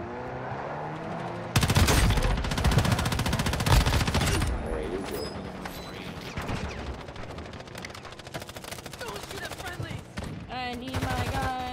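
Video game gunfire sounds as loud bursts of rapid automatic shots that start suddenly and keep going with short gaps, mixed with other game effects and some talk.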